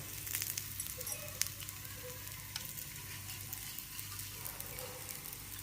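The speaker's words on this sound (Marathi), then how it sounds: "थोडंच तेल असतं पण त्याच्यात भाजून घ्यायचं" Turmeric and jaggery roasting in a small amount of oil while preparing kokum saar make a continuous close sizzle and gentle crackle, quiet and even throughout with no voices.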